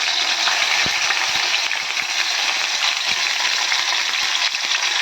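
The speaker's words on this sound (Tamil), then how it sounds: "இப்போ எண்ணெய் காஞ்சிடுச்சு. நம்ம இது போட்டு வெங்காயத்தை வதக்கிடலாம்." Onions sautéing in hot oil for a restaurant-style dry fish gravy give a steady, dense sizzle. A few soft stirring clicks break it now and then, with no voices.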